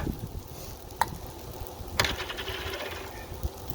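Italian fried rice fries with pesto and olive oil on a Blackstone griddle, a steady close sizzle broken by a few sharp metallic spatula clinks.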